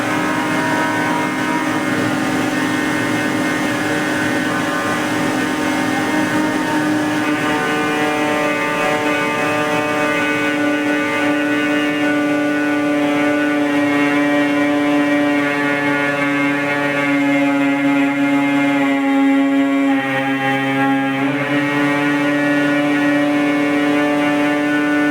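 A repaired Danfoss 90R250 hydraulic pump driven by an engine under full load on a test rig, a loud sustained droning whine with steady harmonic tones that shift pitch slightly over about 25 seconds.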